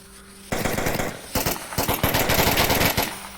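Gunfire in the VR shooter Onward, during a competitive match, breaks out after quiet: quick automatic bursts of closely spaced shots in two or three rattling runs, loud and near.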